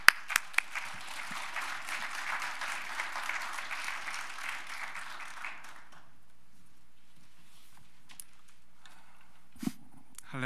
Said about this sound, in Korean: 다 같이 박수로 환영해 주시면 감사드리겠습니다